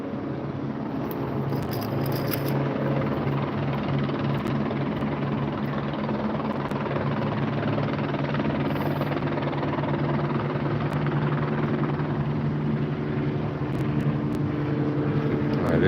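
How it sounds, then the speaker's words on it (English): A media helicopter hovering over a Cal State LA student protest, a steady loud rotor and engine drone that fills the scene throughout and swells slightly toward the end as it nears. "This chopper is getting a little bit closer"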